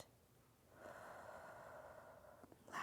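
A slow, steady exhale of breath during a children's guided breathing exercise, a soft airy rush lasting about two seconds, close and gentle, with no talking.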